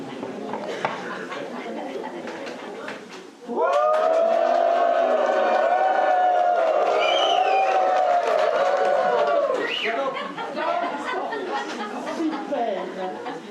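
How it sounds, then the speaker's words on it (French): A theatre audience breaks into loud, sustained shouting, whooping and whistling with applause, rising abruptly and holding for several seconds before fading into scattered cheers and chatter. "que vous criez, que vous hurliez, que vous siffliez, que vous applaudissiez, comme si vous étiez à une manifestation"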